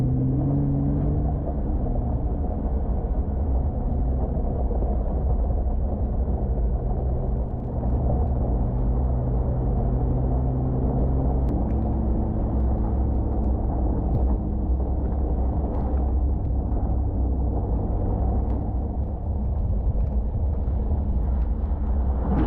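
An off-road vehicle grinds through a deep creek water crossing, its engine a loud, continuous low rumble that shifts in pitch as it pushes through the water.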